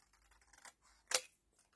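Scissors cut paper in two quick, close snips, a softer one followed by a sharper, louder one, in an otherwise quiet room.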